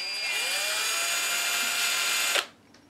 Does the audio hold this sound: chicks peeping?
no